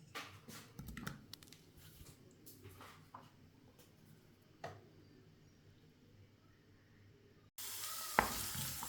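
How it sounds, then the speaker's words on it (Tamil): Onion, green chilli and dried chilli frying in hot sesame oil for a Jaffna-style dish, a soft steady sizzle with small crackles and scrapes, and a brief sharper hiss near the end. "எண்ணெய் சூடு இருக்கிறதுன்னு வெங்காயம், பச்சை மிளகாய், செத்த மிளகாய்"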